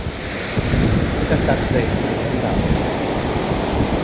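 Sea waves and wind at a seaside shore under cloudy skies, a continuous broadband wash of surf and gusty wind buffeting the microphone, with a person speaking briefly over it.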